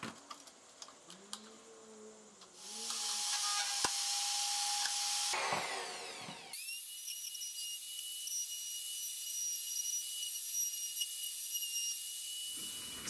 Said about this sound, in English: So the router kind of tore a little bit off at the start because I didn't really clamp it down well enough.